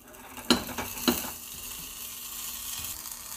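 Butter melting in a small pan gives a soft, quiet sizzle, with two sharp metallic clinks early on before the gentle frying settles in.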